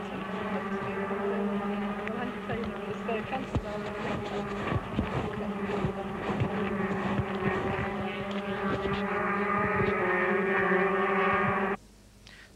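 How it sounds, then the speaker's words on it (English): Racing go-kart two-stroke engines at a 1994 Silverstone kart meeting, a loud buzzing drone of several karts revving and pulling away together, holding steady before cutting off sharply near the end. "Carts are started by a push from behind until the engine fires and off they go in a cloud of blue smoke"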